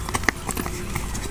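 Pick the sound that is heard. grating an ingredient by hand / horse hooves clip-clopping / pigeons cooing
horse hooves clip-clopping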